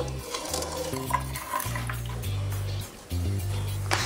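A spoon stirs rice payasam made with milk and cardamom inside a pressure cooker, with scraping and clinking against the metal pot over a low, bubbling simmer.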